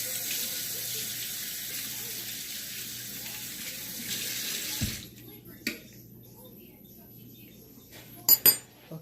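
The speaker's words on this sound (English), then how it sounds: "let me wash my hand right quick." Hands washed under a running kitchen water tap mid-cooking: a loud, steady rush of water pours for about five seconds, then shuts off, leaving a quiet room with a few sharp clinks near the end.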